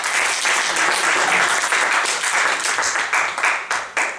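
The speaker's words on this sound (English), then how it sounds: "Give her a round of applause." An audience breaks into full, steady applause, a dense wash of many hands clapping close and loud throughout, thinning to a few distinct claps near the end.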